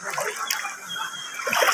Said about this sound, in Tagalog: Lulusog na siya sa tubig.